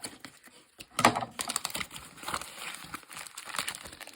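Packaging tape on a Beyblade X toy box is cut through, giving close, crackly crinkling and sharp plastic snaps, with one louder tearing burst near the start followed by irregular rustling.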